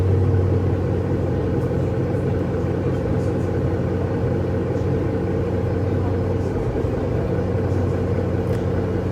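Steady low rumble of a Mercedes-Benz Citaro C1 facelift city bus engine running, heard from inside the bus, continuous and fairly loud throughout.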